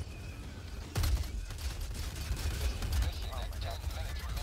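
Mortar fire in Helldivers 2, a heavy boom followed by a steady rumble of distant explosions and gunfire under a dense battle mix.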